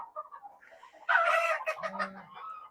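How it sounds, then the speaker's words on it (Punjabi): Jet-black Kadaknath hens and roosters, four months old, cluck softly in a farm pen, then one bird lets out a loud, sharp squawking burst followed by a low guttural call and more scattered clucks, close by. "ਇਹ ਜਿਹੜਾ ਬਰਡ ਆ ਇਹ ਜਿਹੜਾ ਮੁਰਗੇ ਆ"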